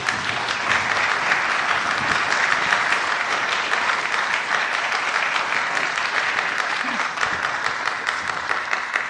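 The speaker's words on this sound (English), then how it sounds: "I think our soloists deserve another round of applause." Sustained applause from a large audience at a fall concert, steady, dense clapping that continues throughout without letting up.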